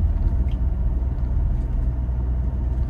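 A manual 2022 Toyota Innova 2.4 G diesel running uphill in third gear at about 2000 RPM, a steady low engine drone and cabin rumble heard from inside, with no talk.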